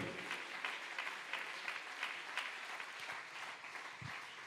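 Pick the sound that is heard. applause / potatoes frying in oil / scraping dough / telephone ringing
applause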